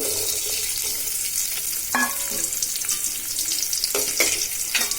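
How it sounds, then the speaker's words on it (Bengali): Chopped onions hit hot oil in a pot, crackling loudly and steadily while a spoon scrapes and stirs through the sizzle several times. "আমি পাতিলে তেল দিয়ে দিছি এবার কেটে রাখা পেঁয়াজ দিয়ে দিচ্ছি"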